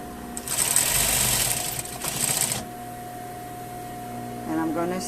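An electric sewing machine runs in two close bursts as it stitches a seam on a lined skirt, a rapid mechanical whir that stops before a brief spoken remark.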